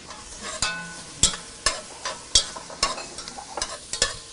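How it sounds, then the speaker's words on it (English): Food sautéed lightly in a pan with mirin sizzles softly, broken by repeated sharp scraping and stirring strokes about every half second, close and moderately quiet, with no talking. "saute that lightly"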